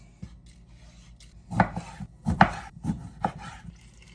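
Ingredients chopped on a board for an ají verde sauce: a few irregular knife thuds and taps, fairly close and moderately quiet, with no talk.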